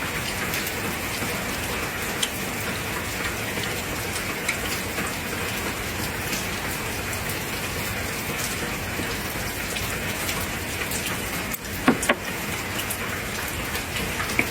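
Steady rain pours down on a rainy day at a rural guesthouse, a dense, even hiss of drops on surfaces, close and continuous, with a couple of brief knocks near the end.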